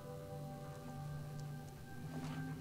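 Faint, steady rain hissing continuously over a low, constant hum, with no voices present.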